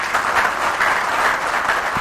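An audience at a provincial governors' conference in Mbandaka, DRC, applauds a memo with dense, sustained clapping that carries at a steady, fairly loud level from start to finish.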